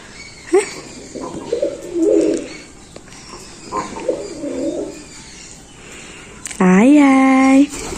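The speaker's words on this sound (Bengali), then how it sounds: "দেখছো তুমি পায়রা দেখছ, পায়রা, পায়রা, পায়রা দেখছ," A pigeon coos in a few soft, low phrases, with a longer, louder coo near the end, while people talk nearby.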